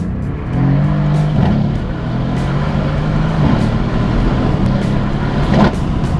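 Mercedes-AMG C 63 S (W205) V8 engine accelerating, a loud deep rumbling roar from inside the car that rises steadily through the gears, with brief shift breaks.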